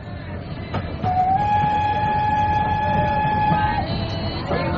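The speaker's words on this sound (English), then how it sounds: "her daughter, Miss Judy Alcott, are at present on the train from Bombay." A train bound from Bombay rolls along with a steady rumbling noise, and a long steam whistle sounds clearly over it for several seconds before fading.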